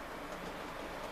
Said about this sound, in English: The last train ever on this line.